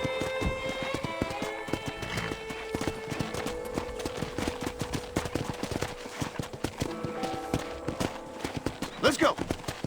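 Horse hooves clip-clop steadily at a walking rhythm in the Red Dead Redemption video game, close and clear, with a whinny near the end over faint ambient background.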